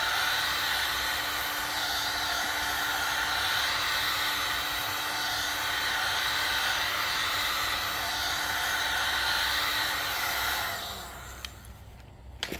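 Heat gun blowing hot air over freshly applied textured bumper paint to help it cure, a steady loud whooshing hiss that holds for about ten seconds and then drops away near the end.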